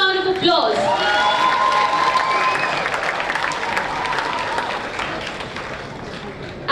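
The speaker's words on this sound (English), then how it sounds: "can we have a huge round of applause?" An audience at the ASU Congregation Ceremony for African Students at Lovely Professional University breaks into loud, sustained applause. The clapping swells right away and keeps up with a crowd murmur beneath it, and a few tonal sounds show early on.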